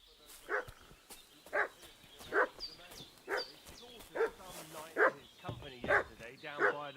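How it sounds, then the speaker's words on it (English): Dog barking in the video game Kingdom Come: Deliverance, a run of about eight loud, evenly spaced barks, close and alone. "What's that dog making such a fuss about?"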